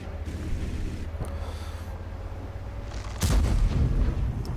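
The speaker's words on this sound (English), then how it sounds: "HK puts a blind shot in the general direction of where those 2 Super Pershings and the KV4 premium tank on the enemy side were" An M46 Patton tank firing a blind shot in World of Tanks, a single heavy cannon boom bursting in after a stretch of low battlefield rumble, followed by a rolling low-end roar.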